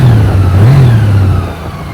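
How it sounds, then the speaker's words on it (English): A new motorcycle's engine revs up from idle in one smooth rise and settles back, loud and close, with a low steady hum and no voices. "Listen to that motor."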